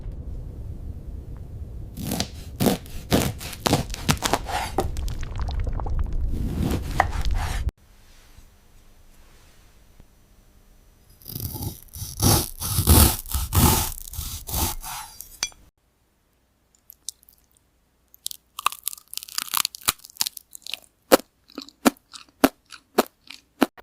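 AI-generated ASMR crunching: loud, dense crackling and rubbing crunches fill the first stretch, then a quieter gap, another burst of crisp crunching, and sparse sharp snaps toward the end, with no talking.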